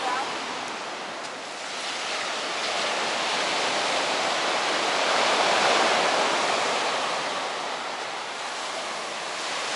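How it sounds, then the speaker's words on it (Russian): Winter sea waves roll steadily onto the shore at Sudak, Crimea, a continuous broad wash of surf that swells and eases over several seconds, with no voices over it. "потому что волны очень быстро накатывают"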